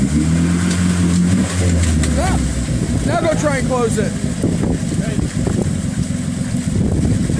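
A stuck tractor engine with its muffler underwater runs continuously with a low, burbling, gurgling drone, loud and close, while people talk over it.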